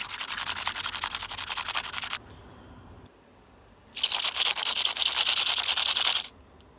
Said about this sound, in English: That's the kind of scratching I wanted.